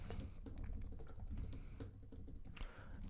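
Someone types steadily on a computer keyboard while coding, producing a quiet, close, continuous patter of key clicks with brief pauses.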